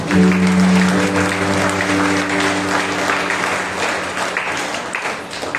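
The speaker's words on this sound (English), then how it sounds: "Let's go mighty clap to the Lord." Congregation at a Monday prayer meeting claps for the Lord in sustained, dense applause, loud from the start and tapering slightly, with a sung or held tone under the clapping at first.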